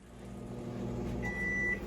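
A microwave oven hums steadily at moderate volume while beef ribs cook inside a Tupperware MicroPro Grill, with a faint high electronic whine joining partway through and no talking.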